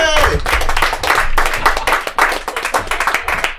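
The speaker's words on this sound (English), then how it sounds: "give her a round of applause" A comedy club audience claps loudly for a comedian after her set, brisk sharp hand claps, close and dense, with a few cheers and voices mixed in, thinning into scattered claps by the end.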